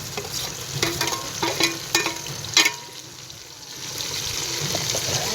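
Tomatoes drop into a pan of browned onion and garlic frying for aloo kofta shorba. A few clattering stirs come first, then a steady close sizzle that hisses on alone and slowly grows.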